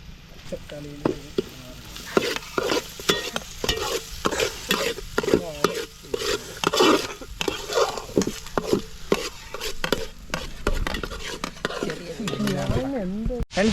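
Fish masala with ginger-garlic paste, green chili and tomato frying in a pan as a spoon scrapes and stirs, producing repeated sharp clatters over a continuous sizzle, close and loud.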